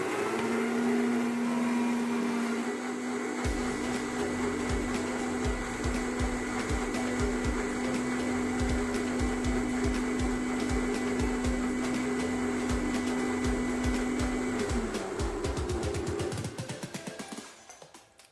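A mixer grinder whirs steadily as it blends watermelon juice with pepper powder and black salt, a loud continuous motor drone with a sustained whine that runs for about fifteen seconds before spinning down and stopping.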